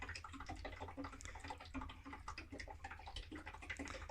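A furnace inducer fan with water condensation inside gives a steady low mechanical hum with constant watery gurgling and bubbling on top, continuous and fairly close throughout.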